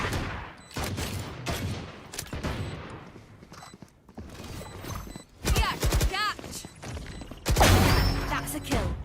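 Rapid bursts of rifle fire in a Valorant competitive match, sharp repeated gunshots in clusters over game sounds and commentators talking.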